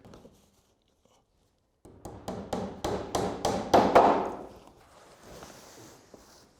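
Large-headed galvanized clout nails hammered into roof battens, a quick run of about nine sharp, evenly spaced blows that grow louder and then fade, preceded by a near-silent pause.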